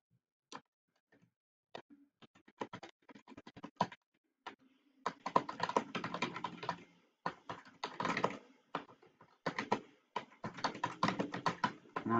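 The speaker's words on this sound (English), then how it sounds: "I'll even type it out for you" Rapid computer-keyboard typing comes in uneven bursts of quiet clicking keystrokes separated by short pauses, close and otherwise alone.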